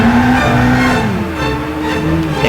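A car engine in Gran Turismo 6 powers out of a drift after a handbrake turn, a loud steady drone that sags slightly in pitch and then holds, heard alone without talk.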